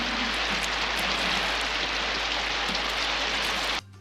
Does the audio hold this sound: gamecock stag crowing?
no